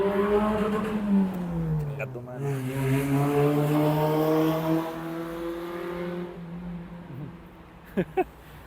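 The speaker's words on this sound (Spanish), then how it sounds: "Ese auto hace más ruido de lo que avanza" Noisy car passing by outdoors in Chile, a loud droning engine with a steady tone that shifts and fades as it goes by, under a person talking.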